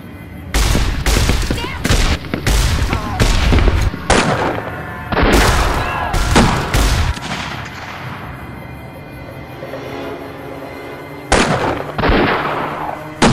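Dense bursts of gunfire from the Fallout game, a machinima battle scene: rapid overlapping shots in loud volleys for about seven seconds, then a quieter lull with ambient rumble before two more sharp bursts near the end.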